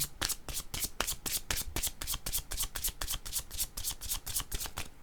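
Playing cards ripple and flutter in quick, even bursts, a rapid papery riffle repeating close to the listener during a card draw and shuffle, with no talking over it.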